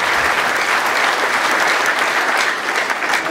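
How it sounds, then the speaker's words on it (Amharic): A church congregation applauds, dense continuous clapping filling the room at close, loud level for a few seconds, with no voices standing out. "አጨብጭቡ ለእግዚአብሔር ክብር ይሁን።"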